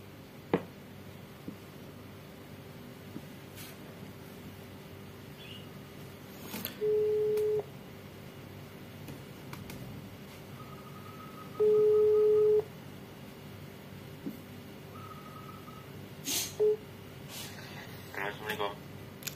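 Two long single-tone telephone ringback beeps sound a few seconds apart over faint background hiss, followed by a short blip and light rustling, from an outgoing call on a Xiaomi phone running Derpfest Android 12.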